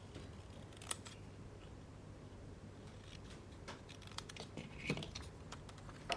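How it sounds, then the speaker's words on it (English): Scissors snipping through paper while a V shape is cut from a page layout, a series of soft, irregular crisp snips and clicks close by, faint and without talk. "And then we're going to get our scissors and cut that out."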